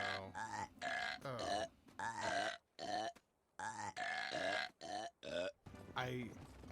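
Cartoon belches and grunts from an animated Disney film, a series of loud, drawn-out voiced burps and guttural sounds in quick succession, with short gaps between them.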